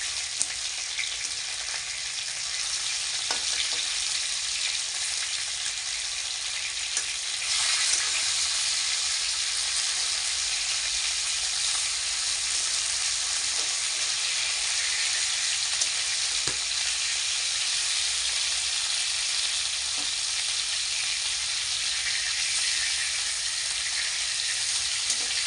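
Bhola fish fries in hot mustard oil with a loud, steady sizzle and hiss that runs unbroken and close for the whole stretch, with no voices over it.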